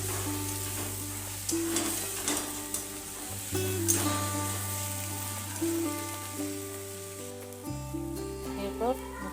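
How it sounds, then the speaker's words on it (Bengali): Hyacinth beans fry in a pan in a simple village-style dish with spring onion greens, a continuous close sizzle with light stirring, while a voice or background tones sit faintly underneath. "সিম ভাজা প্রায় হয়ে এসেছে।"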